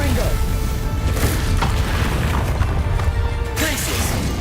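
Confringo spell blasts in the video game Hogwarts Legacy, heavy booming crashes and bursts over game music, with someone talking over the action throughout.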